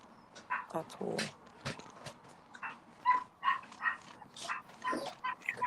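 A neighbour's small chihuahua yaps in short, high barks, scattered and somewhat distant, mixed in with people talking.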